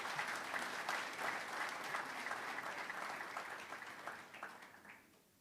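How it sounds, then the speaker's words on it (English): A conference audience applauds the performers, a dense, even round of clapping that fades away near the end. "applause for them."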